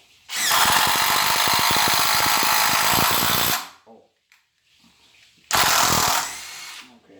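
A DeWalt Xtreme 12V cordless drill drives a T25 Torx screw with a loud, steady whir for about three seconds, stops, then gives a second shorter burst.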